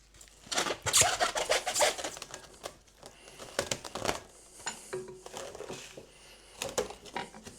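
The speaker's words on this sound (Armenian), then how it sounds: "Պիշևոյ պլյոնկով կփակեմ։" Plastic cling film is crinkled and stretched over a bowl of marinating vitamin salad, giving close, crackly rustles in uneven bursts with short pauses.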